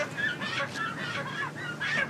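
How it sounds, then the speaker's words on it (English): Live chickens at a market squawk and cluck in a string of short, nasal calls, fairly close and steady, over a low murmur of surrounding activity. "Buying some chickens."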